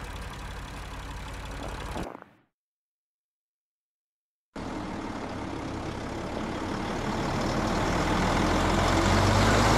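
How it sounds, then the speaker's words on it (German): Truck engine in the video game Lost Horizon, rumbling steadily, cutting to silence for about two seconds, then starting again and building in loudness as it drives off. "Starte den LKW und fahr nach oben."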